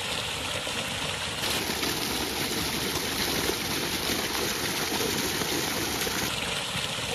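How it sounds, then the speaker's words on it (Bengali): A water pump motor runs steadily with cold water flowing and splashing from it, a continuous broadband rush that swells louder for several seconds in the middle, outdoors in the morning, with no talking. "এই মোটরের পানির শব্দ আর ঠান্ডা পানি"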